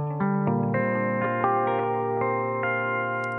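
A clean electric guitar plays a slow, bright melodic ballad phrase, drenched in reverb and chorus, with ringing sustained notes and no talking.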